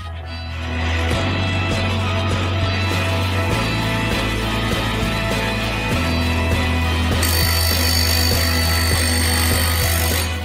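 A saw sharpening machine grinds the teeth of a circular saw blade, giving a loud continuous whine with steady humming tones that shift in steps as it moves from tooth to tooth.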